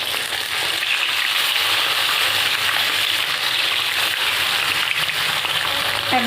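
Loud, steady, close sizzling of puti fish frying in oil in a wok just after being turned over, a constant hissing crackle with no voices.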